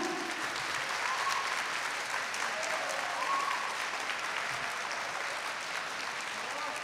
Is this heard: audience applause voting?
yes